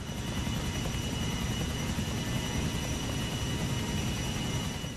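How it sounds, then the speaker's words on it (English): Steady, loud rotor thump and engine whine of a helicopter in the video game GTA IV, holding constant throughout with no voices. "That's right, you get out of your helicopter."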